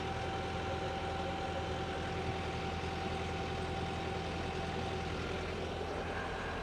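A project boat's engine runs steadily at about 1,500 RPM, giving a constant low droning hum with a faint tonal whine, moderately quiet and unbroken with no talk.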